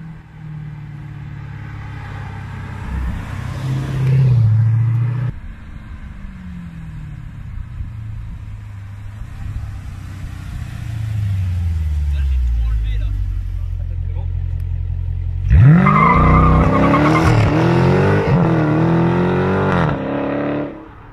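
A 500 hp muscle car passes outside, its engine rumbling louder, fading, then revving hard with a screeching skid near the end, close and loud, while people talk and exclaim throughout.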